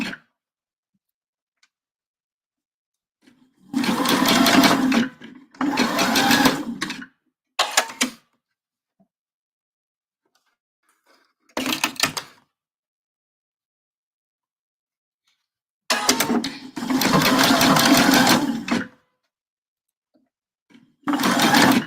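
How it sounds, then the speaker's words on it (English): A sewing machine stitches fabric coasters in several short bursts of rapid mechanical whirring, separated by quiet pauses, with the longer runs lasting a few seconds each. "I'll go ahead and stitch this second one too."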